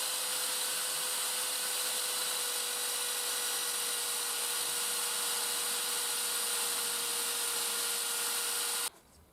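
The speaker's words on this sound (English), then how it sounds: "So was it worth 25 minutes of my life polishing plastic glasses?" A polishing mop loaded with medium compound buffs scratched plastic safety glasses, giving a steady, loud whirring drone that runs unbroken for about nine seconds before cutting off abruptly.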